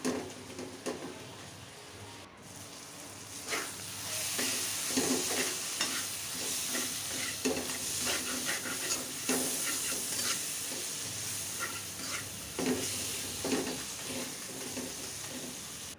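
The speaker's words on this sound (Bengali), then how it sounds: "সামান্য জল দিয়ে মশলাটা ভালো করে কষিয়ে নেব" Spice paste for a river pangas fish and potato curry sautés in a pan with a splash of water and sliced green chillies, a steady sizzle broken by repeated scraping stirs throughout, close and fairly loud, with no talking.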